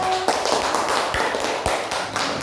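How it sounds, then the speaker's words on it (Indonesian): An audience at a group presentation gives a short burst of dense clapping, close and fairly loud, lasting a couple of seconds without talking. "beri aplaus untuk kelompok 1"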